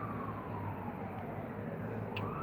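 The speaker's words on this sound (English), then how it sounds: "I know y'all probably still hear these sirens, right?" An emergency vehicle siren wails faintly outdoors, a distant steady tone sitting under a dense rumble of background noise.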